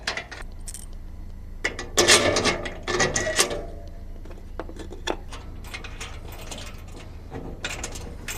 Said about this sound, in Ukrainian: Після того, як ми закрутимо оці довгі болти, то будемо фіксувати по кутах